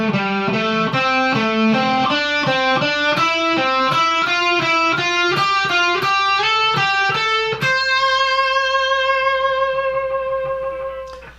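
Electric guitar with distortion plays a song's solo. A quick run of picked notes ends on a long, ringing held note that slowly fades.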